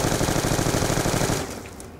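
Rapid automatic fire from the Amtar gun in a zombies video game: a dense, loud, evenly pulsing stream of shots that cuts off and trails away into a fading tail.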